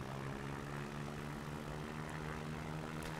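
Low-flying airplane in the X-Plane 11 flight simulator game, a steady droning engine hum with a strong low tone, continuous and even throughout with no talking.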